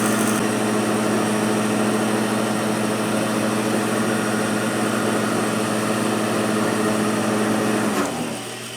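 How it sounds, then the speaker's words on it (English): Tool grinder taking a couple of thousandths off an end mill, a steady high-pitched motor whine with a continuous hum and grinding hiss, close and unbroken, dropping away at the very end. "So I'm going to grind off a couple of thousandths just first time around here."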